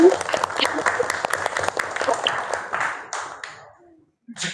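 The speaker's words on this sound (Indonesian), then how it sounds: "Tepuk tangan dong kalau senang." Students clap their hands together in a classroom, a lively burst of close group clapping that lasts about three seconds and then trails off, with a voice briefly heard at the end.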